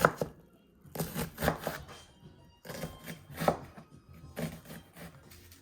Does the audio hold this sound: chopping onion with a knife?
yes